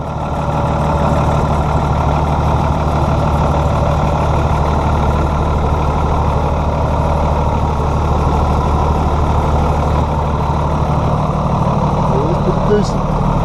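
A box truck's engine idles steadily, a loud, constant low rumble with an even drone that holds without change from start to finish.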